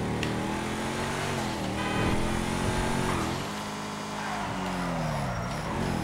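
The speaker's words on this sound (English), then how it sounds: "Now listen to the car" The Coil Brawler car's engine in GTA V hums and revs in rising and falling sweeps, a steady virtual motor tone that swells and dips without pause.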